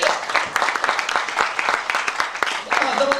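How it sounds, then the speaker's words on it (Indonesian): Church congregation clapping together, dense steady applause with a few cheers, close and continuous. "Boleh tepuk tanganlah saudara"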